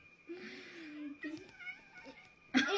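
A cat meows in drawn-out, wavering cries close by, two or three calls in quick succession, ending in a sudden louder rustling burst.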